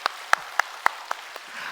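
A church congregation gives a short burst of applause: about six sharp, separate claps spaced evenly, fairly quiet and alone, with no voices.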